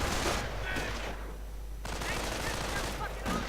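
Light machine gun fire in a World War II strategy game, with a BAR-type weapon shooting at Panzer Grenadiers: dense, continuous automatic bursts that stay loud throughout, with a brief dip before the firing picks up again.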